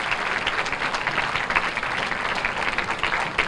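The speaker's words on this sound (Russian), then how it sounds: "Гостя из Москвы встретили под бурные овации" Cinema audience in Kaspiysk gives actor Igor Petrenko a warm ovation, continuous crowd clapping that stays loud and lively throughout, with no talking on top.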